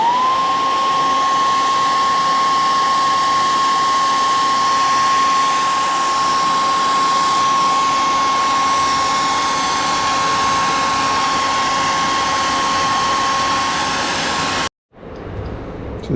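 A heat gun blows hot air onto a car body panel for paintless dent repair, a loud, steady whooshing with a constant whine that runs for about fifteen seconds, then cuts off abruptly.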